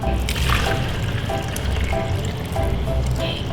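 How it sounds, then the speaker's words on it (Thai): Coconut water pours into a container on a farm, a continuous splashing trickle close by over a busy background. "ต้องมาเทน้ำมะพร้าวลงในนี้ครับ"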